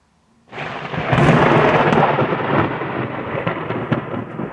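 A loud, sustained rumble of thunder rolls in suddenly after near silence and keeps grumbling, with faint rain patter underneath.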